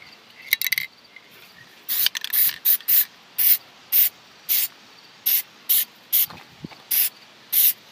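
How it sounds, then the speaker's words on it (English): Short bursts of Plasti Dip spray hissing from an aerosol can onto a Nissan Titan's badges and bumper, about a dozen close, loud hisses separated by brief pauses. "I'm going to actually spray my bumper down there"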